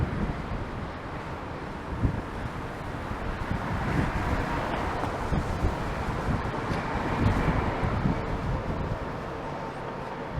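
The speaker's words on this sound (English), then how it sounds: "That wind has really picked up again." Strong wind buffets the microphone during a city bike ride through downtown Toronto on a gloomy day. The roar is steady and broadband with low rumbling gusts, and faint traffic sits underneath.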